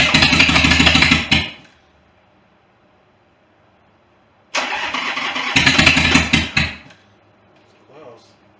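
A crashed Harley-Davidson motorcycle engine cranks and catches with loud, rough bursts, cuts out into near silence, then fires again in two revving surges before dying away.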